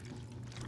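Water is poured into a homemade smoothie at home, a soft, steady liquid pour lasting under a second, close and fairly quiet.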